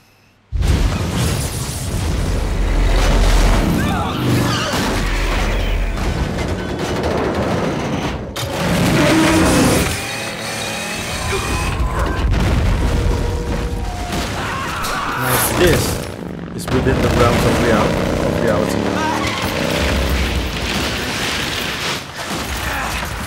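Gunfire and explosions during a boss fight against the Shagohod tank in Metal Gear Solid 3: Snake Eater on PS3, loud and continuous with bursts, mixed with excited talking throughout.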